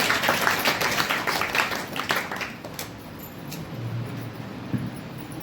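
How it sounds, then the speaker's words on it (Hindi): Church congregation at a Sunday service applauding together in thanks to God, a dense burst of hand claps that gradually thins and fades over several seconds with some lingering scattered claps. "सब ताली बजा के परमेश्वर का धन्यवाद करेंगे।"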